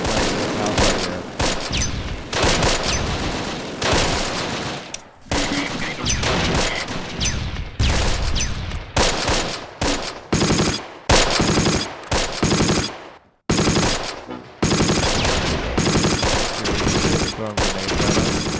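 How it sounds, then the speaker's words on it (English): Machine gun bursts rattle almost nonstop in the WW2 strategy game Close Combat, loud rapid volleys layered with other gunfire and occasional brief pauses, mixed with faint game audio. "I hear this machine gun just like firing out of everywhere."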